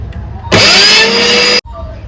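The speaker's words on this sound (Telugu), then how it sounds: "మూత పెట్టేసి మిక్సీ చేద్దాం" A mixer grinder whirs loudly for about a second, grinding tamarind for ginger pickle, its motor pitch sliding as it spins up, then cuts off abruptly.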